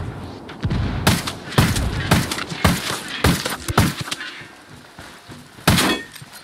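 An indirect fire strike and gunfire in Ghost Recon Wildlands, a military shooter game: a run of loud sharp bangs and impacts, irregular and close, with rumbling between bursts.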